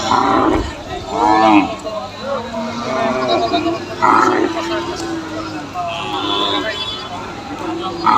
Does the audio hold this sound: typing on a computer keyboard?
no